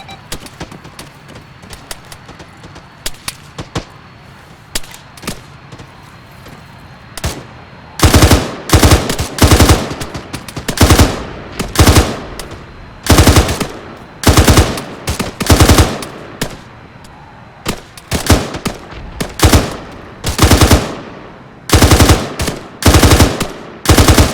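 Machine gun fire in an ARMA 3 firefight: scattered distant shots at first, then loud, close bursts of automatic fire repeating every second or two, with gaps between volleys.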